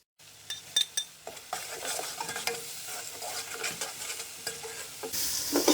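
Salt, cumin and black pepper powder frying in a pot for pulao make a continuous close sizzle. Repeated scraping stirs and metal taps run through it, and no one speaks.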